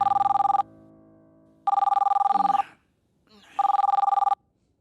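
An old-style telephone bell rings three times in evenly spaced bursts, loud and close, with brief pauses of silence between rings.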